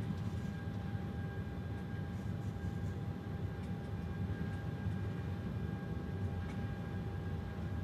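Airliner jet engines roar at takeoff thrust through the takeoff roll from Oslo, a loud, steady, dense rumble with a thin high whine, heard from inside the cabin without any talking.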